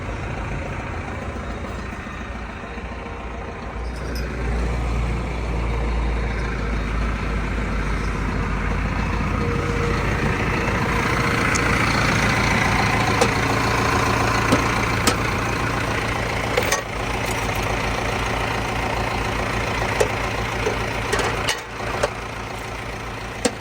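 A Massey Ferguson tractor engine runs steadily throughout, a loud continuous low drone with occasional clanks and knocks.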